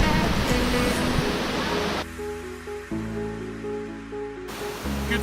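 A river near Santa Marta, Colombia rushes loudly during a crossing. The broad watery roar fills the opening seconds, gives way midway to tonal, music-like sounds, then returns at the end.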